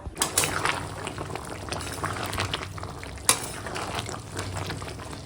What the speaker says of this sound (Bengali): দেখো মাংসটা এখন ফুটছে একদম টক বক করে